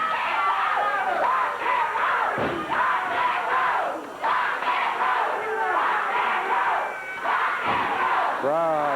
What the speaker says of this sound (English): Crowd cheering Robert and Rick.